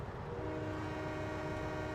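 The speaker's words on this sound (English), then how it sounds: "the horn is pretty much your classic American thing, even though this is a German train" American-style horn on a German locomotive in Trainz Simulator 2, Black Forest route, sounding as a steady, sustained chord-like blast over the rumble of the train, with no pause for the whole stretch.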